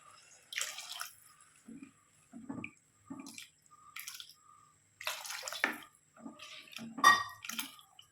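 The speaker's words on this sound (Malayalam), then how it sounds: "ഞാൻ ആവശ്യത്തിന് വെള്ളം ഒഴിച്ചു കൊടുക്കും" Water is poured in short, splashy bursts into a pan of fish curry soured with Malabar tamarind, with dripping and gurgling between pours in a quiet kitchen.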